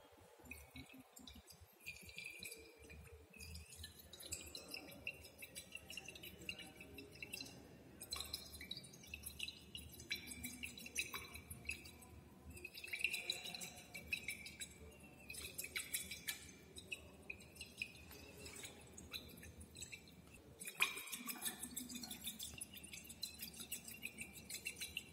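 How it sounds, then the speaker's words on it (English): Bromine solution dripped into acetanilide in a glass conical flask under constant stirring in cold conditions, giving faint irregular drips and small glassy clinks against a quiet background over a long stretch. "Add this bromine solution into the Conical flask containing acetanilide drop-wise with constant stirring"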